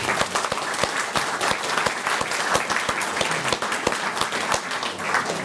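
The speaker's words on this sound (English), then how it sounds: "can I give a round of applause for Christy Ficker" A room of people applauds at a small-town hall meeting in Gearhart, with distinct individual claps popping out of a dense, lively patter. The round runs for several seconds at a steady, fairly close level.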